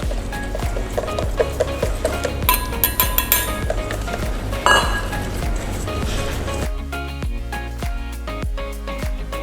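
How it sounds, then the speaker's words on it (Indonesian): Dry ingredients being stirred in a bowl for chocolate baked donuts, with repeated clinks and scrapes of a utensil against the bowl in an uneven rhythm, close and clear. "Kita aduk sampai tidak ada yang menggerinjil."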